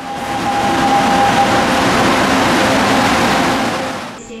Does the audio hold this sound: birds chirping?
no